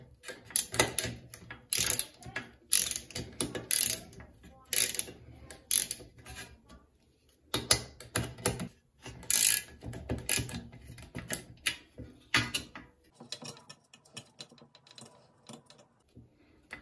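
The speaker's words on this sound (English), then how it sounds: "use your 5/16 wrench socket and remove those two bolts" A socket wrench ratchets out bolts on a Broan exhaust fan motor, with bursts of fast clicking in uneven runs and short pauses between them, close and fairly loud, fading to quieter handling at the end.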